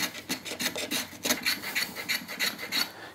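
A block hand plane chamfers the end grain of a wooden board in a quick series of about a dozen rasping strokes, each a short bright scrape close to the listener, heard alone without talk.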